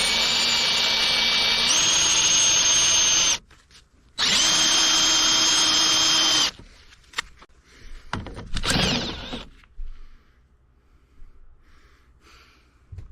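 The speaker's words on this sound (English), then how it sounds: "Killed my pilot drill." A power drill whines loudly in two long sustained bursts, stopping briefly between, then sputters out into quieter clattering and handling noise as it bores into a bolt and the pilot drill bit breaks.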